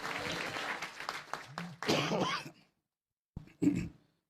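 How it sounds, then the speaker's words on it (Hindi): A church congregation claps hands during a Resurrection Sunday service, a dense burst of applause that fades into silence, followed by a brief cough or throat-clearing. "ताली बजाकर प्रभु को धन्यवाद दीजिए।"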